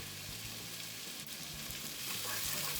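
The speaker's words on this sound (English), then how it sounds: "now I'm going to add 2 fresh cloves of chopped garlic" Chopped fresh garlic sizzles and fries in a pan for sauerkraut soup, a steady close crackling hiss with faint stirring clinks and no talking over it.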